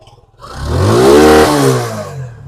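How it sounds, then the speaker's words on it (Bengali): A 2015-model motorcycle at an old-bike fair starts up and revs once, the engine note climbing to a loud, sustained roar before settling back down, with no one speaking over it. "বাইকের একটু স্টার্ট যে সাউন্ড একটু শোনাই"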